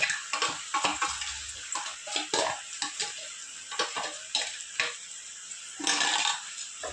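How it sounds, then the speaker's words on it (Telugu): A paste of green chillies, coriander, fenugreek leaves and curry leaves frying in oil on top of ginger-garlic paste, for an egg pickle: loud, steady sizzling with rhythmic bursts of stirring and scraping, close up. "ఇదండి పచ్చిమిరపకాయలు, కొత్తిమీర, మనం మెంతిం కూర, కరివేపాకు పట్టుకున్నాం కదా మిక్సీ, అది వేసుకొని బాగా ఫ్రై చేసుకోవాలండి"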